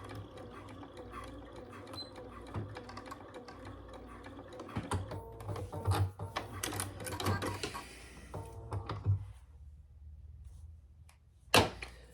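A sewing machine stitches a wallet piece in one steady mechanical run that ends abruptly, followed by a sharp click near the end.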